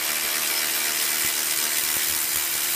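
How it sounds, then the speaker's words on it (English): An electric ratchet wrench whirs with a continuous, loud, high-pitched motor whine as it works a truck stabilizer bar link bolt, with a few faint knocks under it and no talking. "I put this socket on my electric ratchet wrench"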